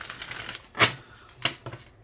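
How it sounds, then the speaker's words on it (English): A deck of tarot cards is shuffled by hand in a few quick riffling bursts with sharp slaps and soft rustles between them, close and fairly loud. "Let's shuffle this up real good."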